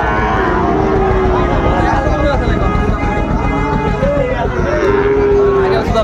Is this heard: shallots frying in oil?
no